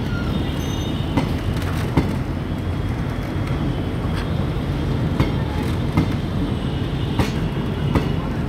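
Bareilly City–Pilibhit passenger train (05311) with a WDP4D diesel locomotive rolling past at Izzatnagar, a continuous rumbling drone with regular clacking wheel beats over rail joints, fairly close and steady.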